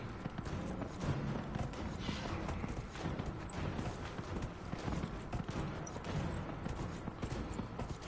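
Horse hooves galloping in a race in Dragon Age: Inquisition, a continuous close, busy clatter of hoofbeats over steady background noise.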